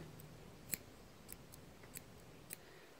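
Curved scissors trim the paw fur of a Papillon dog, giving a few crisp snips spaced about half a second to a second apart, close and fairly quiet against a soft background hush.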